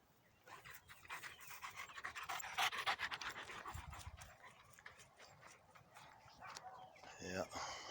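A dog pants rapidly on a walk, a close run of quick rhythmic breaths that swells and fades over several seconds, with a voice speaking faintly near the end.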